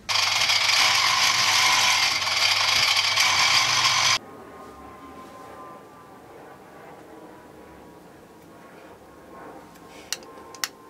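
A self-cutting coarse thread insert is driven in during a cajon build: a loud, steady ratcheting mechanical whir runs for about four seconds, then stops, leaving quiet room noise with a couple of faint clicks near the end.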